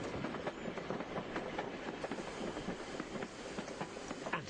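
A train rolls along the tracks with steady rattling and clickety-clack wheel noise, a continuous dense rumble at moderate distance.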